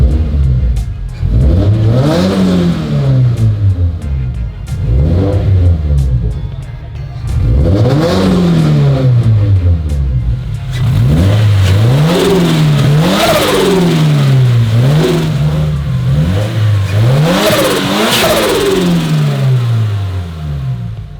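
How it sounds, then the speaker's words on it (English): The engine of a newly turbocharged Subaru BRZ revs up repeatedly, each loud, close rise followed by a whooshing turbo blow-off valve release as the revs fall, in a steady cycle of pulls. "That blow-off noise is so good."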